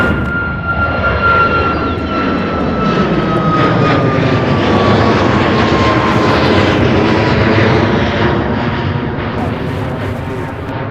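A Southwest Airlines jet departing Louisville's SDF airport thunders loudly and close, its engine roar swelling to a peak midway while a high whine slowly falls in pitch, then easing slightly toward the end.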